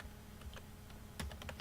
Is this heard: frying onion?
no